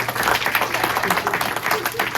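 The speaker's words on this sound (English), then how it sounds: "we're give a round of applause to our city council here" A civic meeting audience in Lynn, MA applauds city council members with steady, dense clapping from a crowd, over a murmur of voices.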